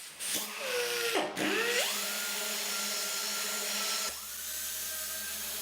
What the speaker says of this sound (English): A die grinder with a rotary burr was used to clean the opening up.